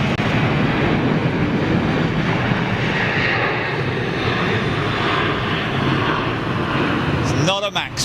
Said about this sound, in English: 737-8, I believe.